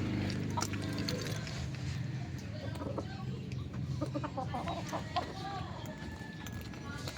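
Golden Boy chickens clucking in a backyard, scattered close clucks and short calls under near-constant conversation between people.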